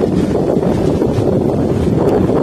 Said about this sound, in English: It's kind of windy out here right now